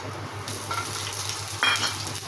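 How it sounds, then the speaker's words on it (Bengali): Cumin seeds frying in hot oil in a pan while cooking an egg and lentil dish, a steady close sizzle with stirring and a brief louder crackle near the end. "ভেজে এখন আমি সাদা জিরা ফোড়ন দেব, তারপরে দিব রসুন এবং গরম মশলা।"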